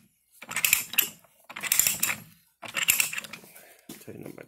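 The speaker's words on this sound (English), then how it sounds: "I start threading it on." A Harbor Freight pipe threader is worked onto pipe in three short bursts of dry ratcheting and scraping, close by with pauses between strokes and a softer clunk at the end.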